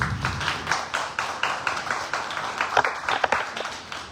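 A small audience applauds at a cultural panel discussion, with scattered, uneven claps that pulse irregularly and briefly swell before fading, and no voices.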